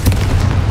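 Confringo fire spell blast in Hogwarts Legacy: a single short, heavy booming burst with a deep low thump, loud and close, with no voice over it.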